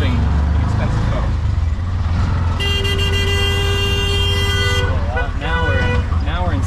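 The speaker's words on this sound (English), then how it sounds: "You want to got the beeping, the honking, all the sirens going out." Busy traffic in Dhaka, Bangladesh, with car horns honking repeatedly, one long sustained blare in the middle, over a constant engine rumble and voices talking nearby.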